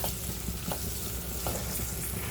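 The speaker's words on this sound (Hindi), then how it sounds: "अभी इसको अच्छे से तड़कने देंगे" Curry leaves and cumin crackle in hot oil, a steady dense sizzle with faint spitting pops, close and alone with no talk.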